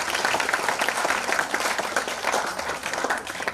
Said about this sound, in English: A huge round of applause, ladies and gentlemen, for our panelists.